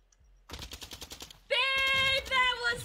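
Video game gunfire rattles off as a rapid burst of automatic shots, then gives way to a louder, sustained tonal blast layered over further firing.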